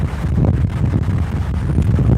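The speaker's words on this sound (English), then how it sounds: "So, it is extremely windy." Strong wind buffeting the microphone, a steady low rumble with gusty surges throughout and no voices.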